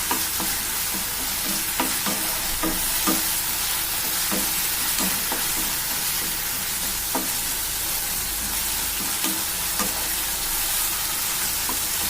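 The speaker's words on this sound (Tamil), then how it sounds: "நல்லா வதக்கிட்டு நாம நல்லா வதக்கிக்கணும்." Tomato and ginger-garlic paste sauté in a pan for a lentil ball curry, giving a steady close sizzle with periodic scrapes and clicks of a stirring spoon throughout, no voices.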